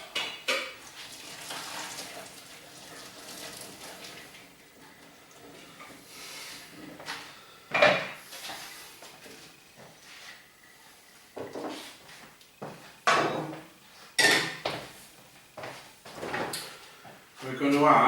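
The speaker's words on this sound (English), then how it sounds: "So we'll mash these carrots and potatoes." Boiled carrots and potatoes for a cottage pie are mashed in a pot, giving irregular clattering thumps and scrapes of metal that grow louder toward the end, with a person talking throughout.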